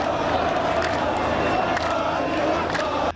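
A crowd of protesters outside the Israeli embassy in Amman chant slogans and clap, a dense continuous roar of many voices heard close and loud throughout.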